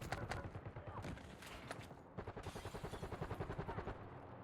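Rapid bursts of automatic gunfire in the video game Warzone crackle in a steady rhythm, loud and close, with a voice briefly talking in Ukrainian over the shooting.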